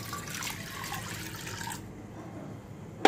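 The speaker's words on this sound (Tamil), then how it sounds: "2 கப் அளவுக்கு தண்ணி சேர்க்குறேன்." Water poured from a container onto toor dal in a pressure cooker, a steady close splashing pour that stops abruptly partway through, followed by near silence and a brief knock.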